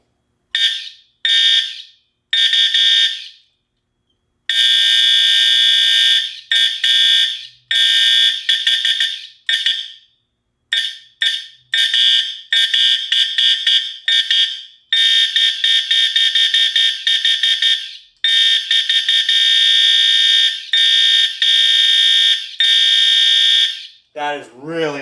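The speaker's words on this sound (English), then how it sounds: "That is really loud. That's awesome. Now this here is cool. These horns are good. They're really nice and loud" Two fire alarm horns sound together in loud, piercing bursts that repeat in an uneven stop-start pattern, with short gaps between blasts; a brief voice comes in at the very end.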